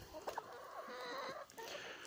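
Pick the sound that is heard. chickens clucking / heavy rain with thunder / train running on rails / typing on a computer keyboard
chickens clucking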